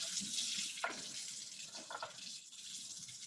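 Water pours and runs into a sink as soapy water is dumped out and rinsed away, a steady broadband rush with a brief splash near the start, heard alone at moderate level.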